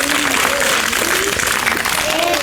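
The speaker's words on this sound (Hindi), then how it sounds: "इन बच्चों के लिए जोरदार तालियां हो जाएंगे।" An audience at a primary school corner-inauguration event in Tarla Nagal gives loud, sustained applause for the children, a dense continuous clapping that fills the space.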